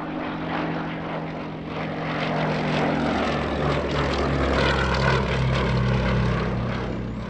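Vintage propeller aircraft, originally a multi-role ground support plane, passes overhead at an airshow, a steady loud engine drone that swells slightly and holds throughout.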